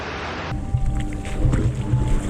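Waves wash ashore at a quiet, deserted stretch of Luquillo Beach in Puerto Rico, a soft rushing surf with low rumbling swells, heard nearby in open air under light wind.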